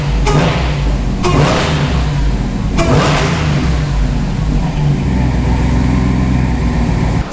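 A Hellcat supercharged engine swapped into a Dodge RAM 1500 runs with its blower roaring, a loud steady drone with a few whooshing surges early on, heard nearby and without talk.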